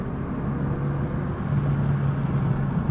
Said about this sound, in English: I'm gonna roll up the window, get rid of that wind noise.